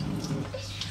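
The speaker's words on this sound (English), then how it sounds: "How are we going to get them out? Hot water, mate." Hot water runs from a kitchen tap in a steady, close splashing stream, used to loosen frozen homemade lollies from their moulds, brief and unbroken with no one talking.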